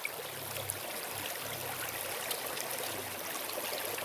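River water at Barangay Salpad in San Nicolas, Pangasinan flows with a steady, soft rushing and light trickling, close by and uninterrupted, with faint low murmurs underneath.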